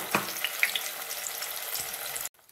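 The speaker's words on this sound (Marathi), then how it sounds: "पूर्ण वाटण मी टाकून घेते." A whole batch of ground masala paste for mackerel curry sizzles loudly in a hot pan. A few sharp spits and crackles sit over the continuous frying hiss, which cuts off abruptly near the end.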